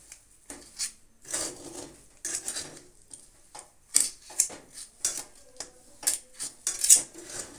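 Sweet pulipitha dough made with date palm jaggery and milk is kneaded by hand on a metal plate, giving irregular clinks, taps and soft pats that come in uneven bursts, close and fairly clear, with no talking.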